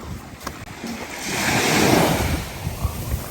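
Sea waves at Sulok Beach roll in as a broad, steady wash of surf that swells toward the middle and eases again, with wind buffeting the microphone throughout and no voices.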